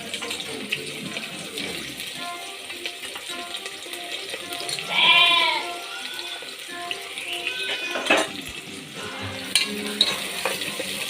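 Onions with a bay leaf frying in hot oil for capsicum potato bath, a steady close sizzle with stirring scrapes of the pan throughout, no talking.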